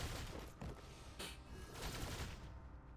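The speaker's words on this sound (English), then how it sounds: "Artillery strikes." Artillery strikes in the video game Reverse: 1999, a loud, dense barrage of overlapping blasts and crackling impacts filling the whole moment with sustained battlefield noise.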